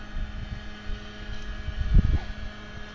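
Aeration blowers run at a small homeowners' association wastewater treatment plant, a steady low rumbling drone with faint tonal hum and occasional gusty swells, heard outdoors at moderate distance with no talking.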